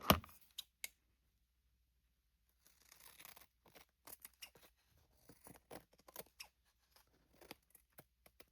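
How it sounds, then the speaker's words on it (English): Scissors snip journal cover material in a string of crisp, close cuts: a few sharp clips at the start, a pause, then irregular quiet snipping that picks up pace. The room is otherwise quiet and no one speaks. "And we're going to trim."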